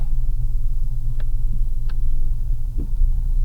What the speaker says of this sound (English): it's backfiring when I give it some throttle